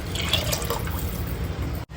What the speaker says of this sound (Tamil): துவரம் பருப்பு 1:4 ரேஷியோல தண்ணி சேர்த்துக்கிறேன்